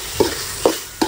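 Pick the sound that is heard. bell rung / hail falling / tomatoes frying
tomatoes frying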